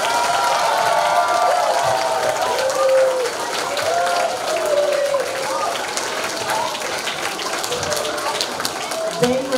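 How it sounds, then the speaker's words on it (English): A school audience applauds kindergarten performers, steady dense clapping filling the room with crowd noise and a few voices over it throughout. "Can we get one more big round of applause for our kindergarten?"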